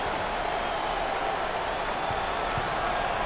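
A basketball arena crowd at a 2024 NCAA tournament game between Texas A&M and Houston roars and cheers in a dense, continuous wash of noise, loud and sustained throughout.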